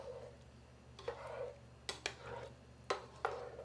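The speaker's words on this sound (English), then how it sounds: "Stirring." A chicken rice bowl sauce being stirred in a pot, giving faint scraping strokes and a few sharp clicks of a utensil against the metal, quiet and spaced out, with no talking.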